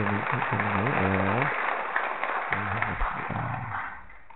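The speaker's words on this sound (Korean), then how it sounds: "그리고 축하의 박수 보내주시기 바랍니다." Church congregation at Sunday Mass gives a round of applause in a reverberant hall, mixed with a voice talking over it and steady clapping trailing off.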